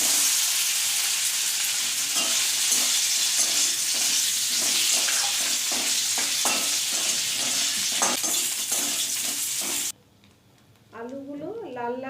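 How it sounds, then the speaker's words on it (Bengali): Diced potatoes fry in hot oil with bay leaf and garam masala in a pan, a loud continuous sizzle broken by repeated scraping stirs; it cuts off near the end and someone speaks briefly. "আলুগুলো লাল লাল করে ভাজা হয়ে গেছে"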